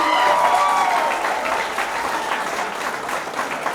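Applause from an audience at a special film screening of Blurr, dense steady clapping with some crowd noise layered over it, loud and close throughout.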